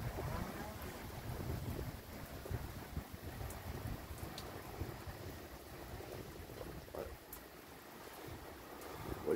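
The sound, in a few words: wind rising during a thunderstorm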